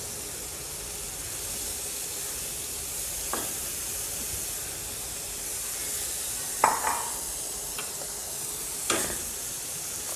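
Minced mutton or beef fries on a tawa with softened onions and ginger, a constant hissing sizzle with a few sharp clinks and scrapes as a spatula stirs the mix now and then.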